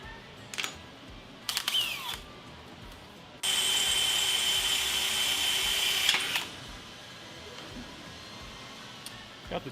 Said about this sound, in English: Got the dullest drill bit.